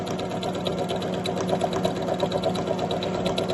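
Sewing machine stitching a zipper pocket, a steady rapid mechanical whir and clatter running continuously up close, with no talking.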